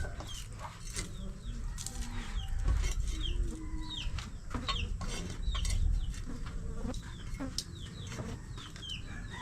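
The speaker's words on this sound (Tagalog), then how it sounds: "medyo malangaw po" Flies swarm around a cooking area near a poultry farm after a harvest, buzzing in repeated close passes while chickens cluck and call in the background.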